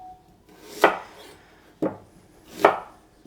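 A big white onion is chopped roughly on a cutting board with a knife, three sharp, separate chops spaced about a second apart, close and clear with no talk.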